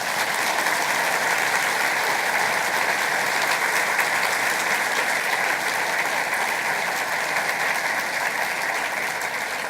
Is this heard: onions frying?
no